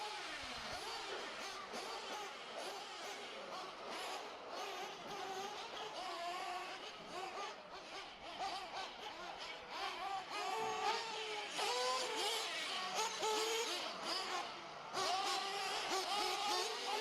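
Nitro off-road RC race cars at a national qualifying round, high-pitched buzzing engines revving and whining continuously as several cars race around the track, rising and falling under crowd and announcer sounds.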